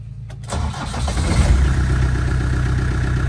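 A 2.5-litre 12J diesel engine in a Land Rover Defender 110 cranks briefly, catches, and settles into a steady, close, rumbling idle with no talking.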